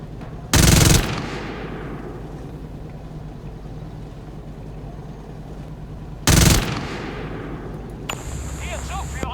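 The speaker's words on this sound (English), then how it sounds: "That's the hull machine gun working." Hull machine gun on a Tiger tank in an Eastern Front tank game, firing two loud sustained bursts several seconds apart over a steady engine rumble, with a brief radio-like voice at the end.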